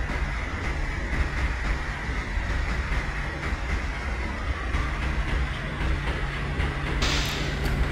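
A train in Microsoft Train Simulator, an express running into a junction platform, rolls along with a steady rumble and faint rhythmic wheel clicks.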